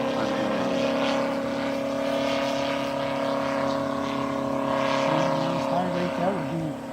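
A 50% scale Bucker Jungmeister model airplane flying overhead, its engine giving a steady droning buzz that holds for several seconds and rises and wavers in pitch near the end as it manoeuvres.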